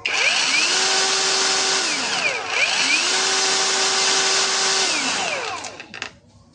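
A repaired cordless brushless angle grinder spins up to a loud, steady high whine, briefly dips and revs again, then winds down to silence at the end.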